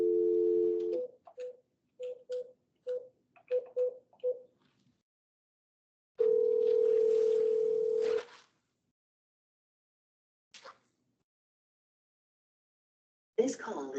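Outgoing phone call placed on Webex Calling: a short dial tone, then a quick run of keypad dialing beeps, a pause, and a long ringback tone, followed by silence and a brief voice near the end.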